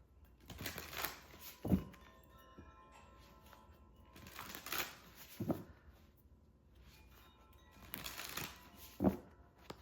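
A deck of reading cards is shuffled in three separate bursts of riffling and flapping, each ending in a soft tap as the cards settle, with quiet pauses between them.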